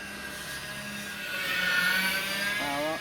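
The engines of a radio-controlled Avro Lancaster model aircraft make a low pass over a field, a thin, whining multi-engine drone that swells as the plane nears and slides in pitch as it passes, moderately distant, with no talking.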